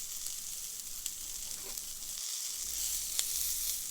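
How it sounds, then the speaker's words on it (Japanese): Quail searing in a hot pan after being flipped skin side over, giving a steady, close, hissing sizzle with faint crackles and small pops throughout; no one speaks. "このようにきっちり焼き色がついたら最後ひっくり返して裏の面を焼いていきます。"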